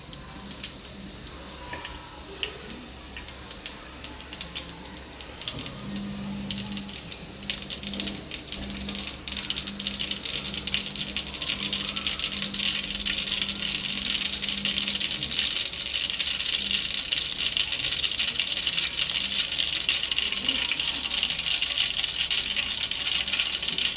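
Mustard seeds crackling and spluttering in hot oil while tempering Gujarati dudhi muthiya, a dense continuous sizzle and popping that builds louder and stays steady, with a faint hum beneath.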